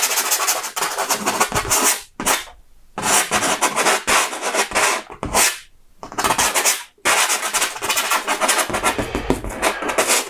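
Palette knife scraping thick oil paint across stretched canvas, with repeated rough strokes in bursts separated by short pauses, close and fairly loud.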